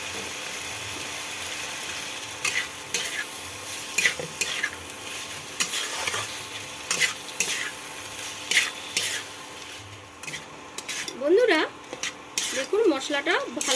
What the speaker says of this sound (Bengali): আমি এবার মশলার সঙ্গে চিকেনগুলো অ্যাড করে দিলাম।